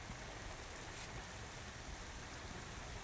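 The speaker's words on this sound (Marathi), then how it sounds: "रायगड जिल्ह्याला सुद्धा आता पावसाच्या सरी बरसताना आपल्याला बघायला मिळत आहेत" Monsoon rain falls in Raigad district as a dense, even hiss. It stays steady and fairly loud throughout, with no voices.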